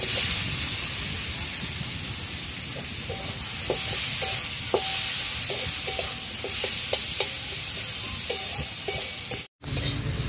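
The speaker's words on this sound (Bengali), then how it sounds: "এই পটল ভাজা গরম তেলে আমি এবার কেটে রাখা পেঁয়াজগুলো ভেজে নেব।" Chopped onions fry in hot oil left from frying pointed gourd (potol), a steady close sizzle with intermittent scraping of a spatula stirring the pan, no talking.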